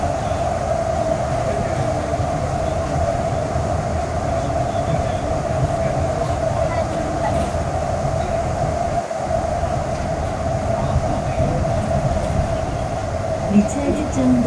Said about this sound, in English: The train will soon arrive at the terminus.